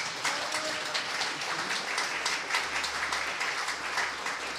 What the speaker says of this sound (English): So I think if we could give them a quick round of applause,